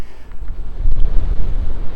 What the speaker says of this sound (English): it is far too windy